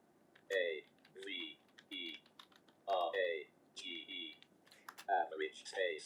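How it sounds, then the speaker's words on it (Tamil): Typing on a computer keyboard while building a table, clusters of quick close clicks and key taps in short bursts separated by brief pauses, fairly crisp against a quiet background. "ஆவரேஜ் அப்படின்னு நான் டைப் பண்ணிட்டேன்"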